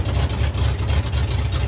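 Low, steady rumble of a vehicle engine idling on a dirt road, a close, even throb with slight pulsing and no voices over it.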